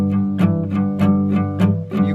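Acoustic guitar strumming a Jingle Bells rhythm with alternating down-up strokes, bright regular strums about four per second, close and alone with no talking.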